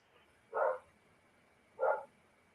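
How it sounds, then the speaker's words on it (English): A neighbour's dog gives two short barks about a second apart, fairly faint and slightly distant against a quiet indoor background. "No, that's my dog. That's my neighbor's dog there."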